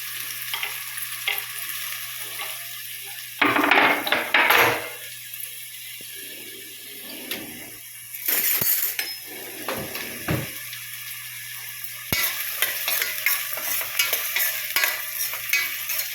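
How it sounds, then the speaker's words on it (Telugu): Onions and green chillies fry in hot oil while a mutton paaya curry is being prepared, a steady close sizzle broken by louder bursts of stirring and scraping in the pan. "నూనె వేడెక్కిందండి, ఉల్లిపాయ, పచ్చిమిరపకాయ వేసేసుకున్నాం."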